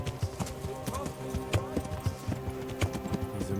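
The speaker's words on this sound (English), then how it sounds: "your horse is so fucking slow" A noble's horse in Kingdom Come: Deliverance clip-clops steadily on hard ground, with even, close hoofbeats throughout and faint talk underneath.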